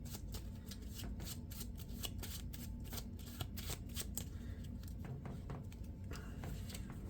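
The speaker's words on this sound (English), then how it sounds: "deal the first player 2 face down encounter cards and flip this card" Marvel Champions encounter cards being dealt and flipped, a steady run of crisp, close card slides and snaps repeating throughout, with no voices.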